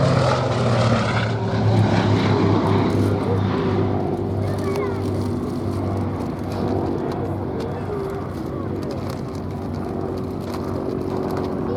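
Gloster Gladiator biplane flying at the Duxford air show, its radial propeller engine giving a loud, steady drone that slowly fades as it passes, with an announcer talking over it.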